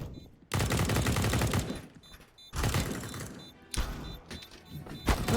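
Rifle fire in the tactical shooter Counter-Strike: Global Offensive, played on the Vertigo map at a professional esports match, with three loud bursts of rapid automatic shots separated by short gaps.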